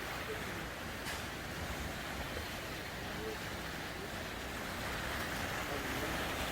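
Calm sea water at a Bohol beach beside a beach house under construction, heard as a steady soft wash of surf mixed with wind rumble, fairly even and continuous.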